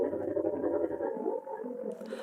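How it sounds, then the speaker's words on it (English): China's Zhurong Mars rover rolls down its landing platform onto the Martian surface, a muffled, continuous low mechanical droning and grinding that shifts in pitch partway through, with no voices. "That is the sound of China's space rover rolling down a landing platform onto the surface"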